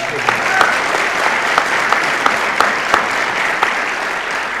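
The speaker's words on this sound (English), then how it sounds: "How about a round of applause for Gabby in that speech?" An audience at a college physical therapy assistant pinning ceremony claps in steady, continuous applause, with a few sharper individual claps standing out near the front.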